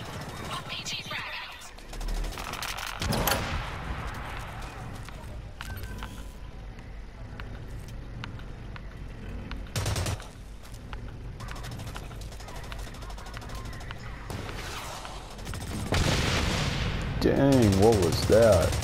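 Gunfire in the shooter game Blacklight: Retribution, scattered bursts and isolated shots ringing out at moderate distance among mixed game effects, with a louder flurry of shots near the end.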